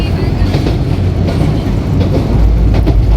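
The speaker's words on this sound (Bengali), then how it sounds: "এটি হচ্ছে রংপুর এক্সপ্রেস আর লোকেশনটা এখন যে জায়গা আছে সেটা হচ্ছে যমুনা সেতুর পূর্ব দিকে" Rangpur Express train running near the eastern side of the Jamuna bridge, giving a steady, loud, continuous rumble of rail travel with deep low-end noise throughout and no talking.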